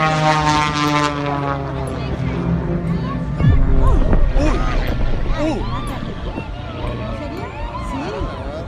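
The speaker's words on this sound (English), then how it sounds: "Families had gathered to watch 2 biplanes perform daring stunts overhead." Two biplanes perform stunts overhead at an air show. A propeller engine drones loudly and changes pitch as it passes, while a crowd of families talks and murmurs underneath.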